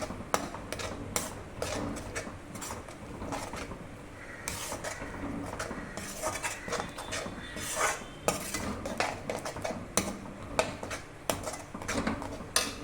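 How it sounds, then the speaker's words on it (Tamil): A utensil scrapes and clinks against a pan in a steady, uneven rhythm as spices are stirred, with a faint sizzle in the background. "எல்லாத்தையும் சேர்த்து நல்லா வதக்கிக்கலாம்"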